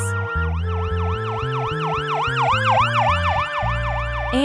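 A wailing ambulance siren sweeps up and down in quick repeated cycles over a low droning tone, loud and close.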